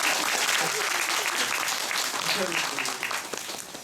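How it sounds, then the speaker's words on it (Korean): Loud, dense applause from a musical theater audience fills the space and tapers slightly toward the end. "두 분에게 박수 한번 부탁드리겠습니다."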